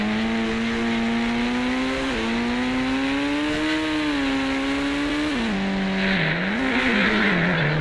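An engine drones and revs with a synthetic, game-like tone in the mobile game Indian Bike Driving 3D, its pitch rising and dipping through gear shifts, ending in a brief skid.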